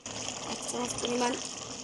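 Soy sauce poured from a spoon into a cooking pot, a brief liquid splash and sizzle over steady frying noise in a home kitchen.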